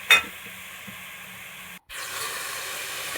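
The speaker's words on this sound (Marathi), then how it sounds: "हे 10 मिनटं तर मी तेलामध्येच परतून घेते" Chicken frying in oil with turmeric and rock salt gives a steady close hiss and sizzle, briefly broken by a short gap before the sizzling resumes evenly.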